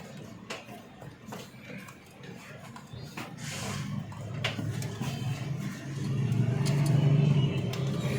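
Toyota Corolla engine on a workshop test bench cranking and then running, a low rumble building toward the end with scattered clicks and a voice talking over it.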